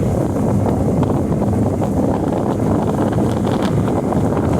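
The outboard motor of a 2019 Tracker Grizzly 2072 center-console boat runs on the water with a steady, loud roar heavily mixed with buffeting wind noise throughout.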